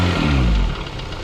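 A K20-swapped Honda Civic wagon with a straight-piped exhaust idles up close, a steady low rumble with a slight rise and fall and no voices over it.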